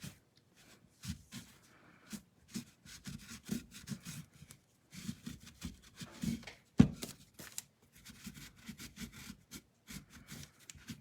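Painted furniture edges are wet distressed by hand, giving soft, close scuffing and rubbing strokes in repeated bursts with short pauses between them.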